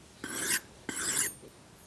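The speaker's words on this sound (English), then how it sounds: "You'll notice as the steel starts getting polished more, it'll glide across the stone a little easier" A leather worker's round head knife is drawn across a whetstone during the polishing stage, giving two smooth, rasping strokes of about half a second each with a short pause between them, close and moderately loud.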